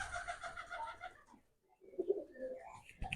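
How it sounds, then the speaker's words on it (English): Doves cooing in a garden with timber railings, a few soft low coos rising after a brief quiet gap, moderately near over faint outdoor background. "The doves are still trying to woo him, woo her."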